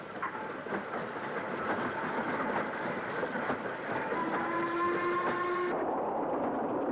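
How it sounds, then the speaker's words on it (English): A BR Standard 9F steam locomotive pulls away with a freight train at Bromsgrove. A steady rumble of wagons and rail noise runs throughout, with a long whistle-like tone near the end. "A 9F pulls away, after having its wagon brakes taken off and possibly a crew change."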